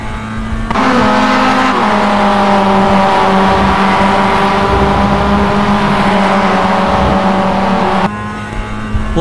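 Mazda MX-5 race car engine lapping Imola in the iRacing sim racing game, a loud, steady engine drone with strong tonal harmonics that holds nearly unbroken for the whole stretch, with a brief shift in pitch near the start.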